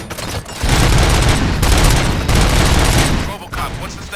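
Rapid automatic gunfire in the video game RoboCop: Rogue City, loud dense bursts of shots close up, with short pauses between volleys.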